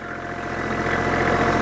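A tractor swings around while cutting swales, its engine chugging in a steady low idle-like drone with faint knocking, growing slightly louder as it turns, with no voices.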